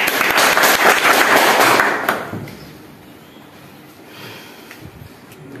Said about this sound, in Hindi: आउ ताकर लागि भी जोरदार ताली।